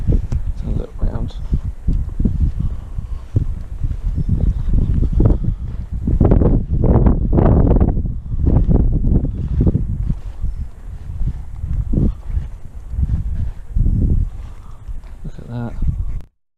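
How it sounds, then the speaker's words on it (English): Strong wind buffets a microphone outdoors at a First World War anti-aircraft battery site, producing loud, rumbling gusts that rise and fall continuously while a person speaks underneath. "Apologise for the wind."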